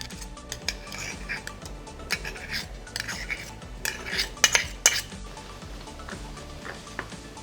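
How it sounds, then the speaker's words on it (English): A spoon stirs tomato paste into one-pot pasta, producing repeated close metallic scrapes and clinks against the pot in an uneven rhythm, loudest toward the middle. "And give it all a stir"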